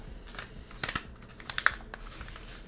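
Packaging of a vintage toy is ripped open by hand, giving a few quick, close crackling tears and snaps in a short burst against a quiet room.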